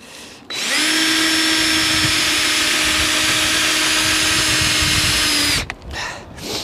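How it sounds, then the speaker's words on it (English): A cordless power drill drives a screw into a fixing on an allotment: one continuous, loud, steady whine lasting about five seconds, cut off abruptly, with a little handling noise after. "I'm just going to pop a screw in and see what I can do."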